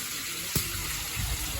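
Water pours steadily from a spout at the Triveni Dham temple, a continuous close hiss and splash with one brief knock partway through.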